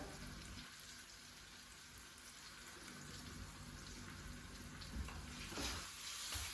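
Spices and masala fry in a pan with a soft, continuous sizzle like light rain, and an occasional stirring scrape, faint and steady throughout with no talk.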